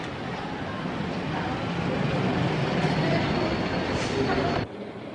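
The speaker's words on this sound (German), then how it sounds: "Intercity, ein schöner Zug." An Intercity train runs with a broad, steady rumble and rolling noise, loud and continuous, with a brief squeal near the end before the level drops suddenly.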